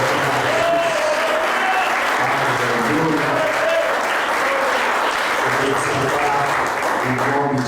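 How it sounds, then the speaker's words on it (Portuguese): Loud, steady applause from a church congregation praising God, dense and continuous throughout, with cheering voices woven into the clapping. "você dê um aplauso com glória"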